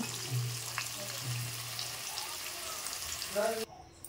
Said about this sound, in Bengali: আমি কিন্তু এবারটা আলুগুলো ভেজে নিচ্ছি সুন্দর করে